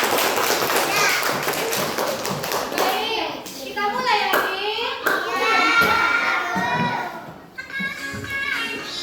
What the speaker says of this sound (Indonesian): tepuk tangan dulu tuh Hakim